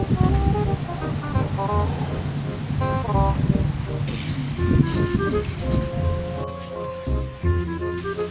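Steady rain patters over a surface amid broad gusty noise, with some tonal music-like sounds and a brief voice mixed in.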